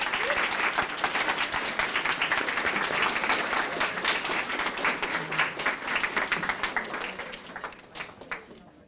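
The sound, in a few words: audience applause for presider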